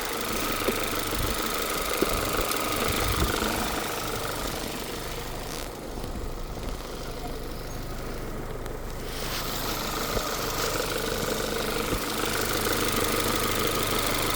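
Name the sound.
car engine idling while being warmed up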